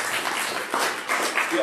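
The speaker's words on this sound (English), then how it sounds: "that deserves an applause" A brief burst of audience applause at a talk on blockchain sidechains, scattered clapping from a modest crowd rising and falling in uneven waves, with a short spoken word at the start.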